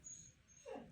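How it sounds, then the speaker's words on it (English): A dog whines faintly outside in two brief high whimpers, distant and soft against a quiet room. "I'm sorry if you hear my dog outside."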